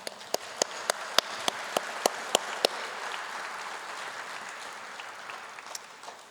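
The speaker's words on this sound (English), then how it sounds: "Let's give them all a round of applause." Crowd at an Armenian Genocide commemoration evening in Glendale giving a round of applause for event staff, a broad wash of clapping with a few sharp, close individual claps standing out early, then settling into a steadier, softer patter.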